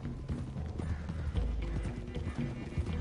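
Several horses gallop in Red Dead Redemption 2, a dense, quick clip-clop of hooves close by with occasional snorts, continuing steadily under faint background sound.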